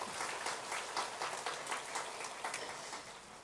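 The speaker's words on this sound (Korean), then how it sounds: "우리 수고한 모든 분들을 위해서 박수 한번 보내주시죠." A church congregation breaks into applause, a full, even wash of clapping from many people that continues for several seconds at moderate loudness without speech.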